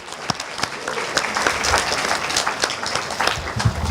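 Audience applause at a San Marino City Club evening event, a moderate crowd clapping steadily with a few sharper individual claps standing out.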